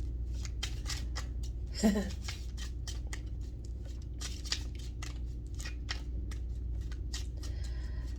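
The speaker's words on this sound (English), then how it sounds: "I'm just shuffling them up" Repeated rapid riffling of playing cards in short bursts, sounding close, with a steady low hum underneath and one brighter snap partway through.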